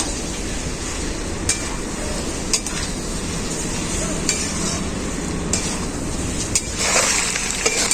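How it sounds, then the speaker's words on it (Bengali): Boiled goat meat scraps sizzle and fry with spices and fried potatoes in a pan, and a spoon scrapes and clinks steadily as it stirs, close and continuous. "মশলার সাথে সেদ্ধ করা খাসের ছাঁট আর ভেজে রাখা আলুটা একসাথে আমি খুব ভালো করে কষিয়ে নেবো"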